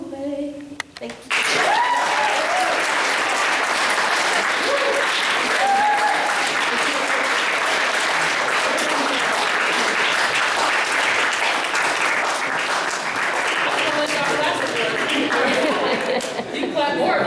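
A gallery crowd at a poetry reading breaks into sustained applause after a poem ends, dense clapping that swells quickly and holds loud and even, with some murmured chatter mixed in.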